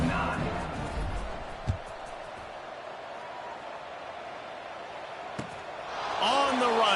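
A college football stadium crowd murmurs and hums at kickoff, a thud sounds twice, and the crowd swells into cheering toward the end, with a commentator talking over it.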